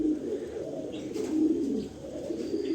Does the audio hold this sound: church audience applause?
no